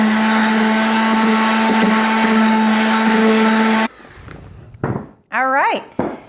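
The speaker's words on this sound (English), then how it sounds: "This is 120 grit sandpaper." Electric sander scuffing painted furniture with 120 grit sandpaper, a loud steady whine with a constant hum that runs for about four seconds, then stops, followed by talking.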